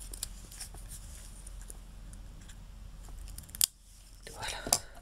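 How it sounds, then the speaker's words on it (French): Scissors trimming excess paper on a scrapbooking project, a few quiet snips close by over low background noise, ending in a couple of sharper, crisp cuts. "Et on coupe donc ce qui dépasse ici, jusque là."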